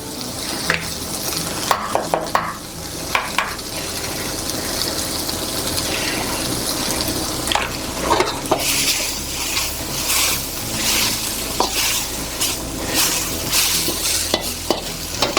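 Vegetables stir-fried in a hot wok for moo shu pork, a constant loud sizzle broken by repeated scraping and tossing clatters from the spatula.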